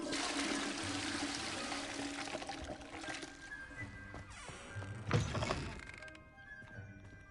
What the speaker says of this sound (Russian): Будет какая-то ачивка за то, что я все унитазы смою?